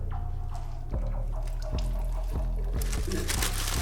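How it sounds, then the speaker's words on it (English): Excess water drains out of a goldfish tank, pouring and splashing steadily with a series of gurgling glugs and drips through the pour, up close and without talk. "So what I'm doing is just draining all that excess water."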